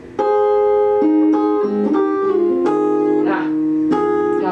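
Acoustic guitar playing the chords of a song in a particular arrangement, with a pinky-fretted note added, strummed chords ringing out steadily and close for several seconds with no talking.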